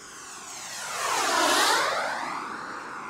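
An HSDJets T-45 radio-controlled turbine jet with a K70G4+ engine making a low pass at half throttle, its whooshing turbine whine rising as it approaches, peaking overhead and sweeping away with a clear Doppler drop.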